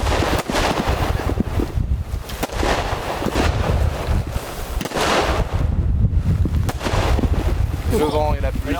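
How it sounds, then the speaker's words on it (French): Strong outdoor wind buffets the microphone with continuous loud rumbling roar while rain beats down, with gusts surging throughout and brief voices in the storm. "Le vent et la pluie"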